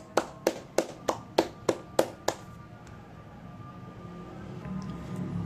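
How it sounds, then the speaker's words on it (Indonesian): A classroom group claps in praise of a student during a microteaching lesson: eight crisp, rhythmic unison claps in quick succession, then quiet room tone with faint background murmur. "Tepuk tangan semuanya"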